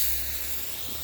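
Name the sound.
spraying water on plants with a spray bottle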